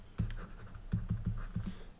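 Pen or marker writes an equation on a board in short scratchy strokes, several quick taps and scrapes in an uneven rhythm, close and fairly quiet.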